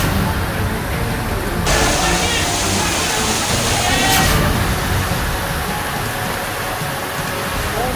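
Heavy rain pouring steadily and loudly in a Rajasthan city, a dense continuous wash of water noise filling the whole stretch with no break.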